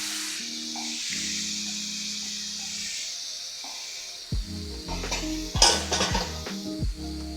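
Potatoes fry in a pan as paneer and ginger paste go in, a soft sizzle giving way to louder stirring, scraping utensil knocks and crackle near the end, close and without talk.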